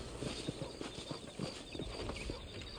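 Horse hooves clip-clop in Red Dead Redemption, a quick, regular run of soft thuds from a horse close by, fairly quiet and heard alone without talk.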